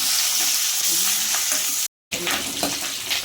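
Thin-sliced ginger and curry leaves crackle in hot oil in a pan, a loud, dense, continuous sizzle with stirring noises, cut off by a brief silent gap midway before resuming.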